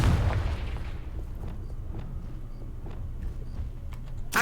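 A fire-blasting spell explodes in a magic video game, opening with a heavy booming burst that fades into a low rumbling tail and scattered faint crackles, with a second burst starting at the very end.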